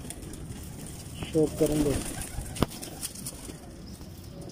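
Crossbred pigeons coo in short throaty bursts at close range, with brief wingbeats and a sharp clap, while someone speaks over them.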